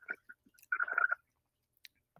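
A crunchy snack being chewed close to the microphone: a couple of quick crisp bites, then a longer burst of crunching, and a few faint clicks in near silence. No voices.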